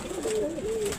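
A pigeon gives a single close, soft coo, two quick rolling notes within about a second, alone against light background hiss.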